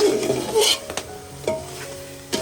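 A wet coconut masala mixture is stirred in a pot over a wood-fired stove, giving a few close scraping strokes with soft pauses between them.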